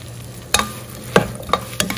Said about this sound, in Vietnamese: Xào cho nó ráo nước chút xíu.